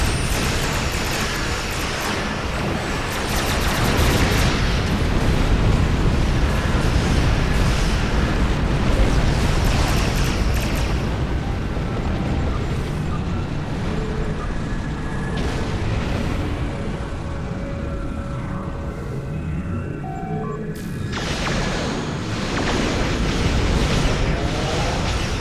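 Torpedo explosions from a Crossfield-class science starship battle in Star Trek Online ring out as a steady barrage of loud, dense booms and bursts, layered over a continuous rumbling space-combat din with no voices.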